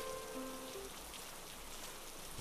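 Rain falls steadily in the horror video game Who is Abby, a soft even patter and hiss that carries on throughout at low level, with a few faint tonal game sounds early on.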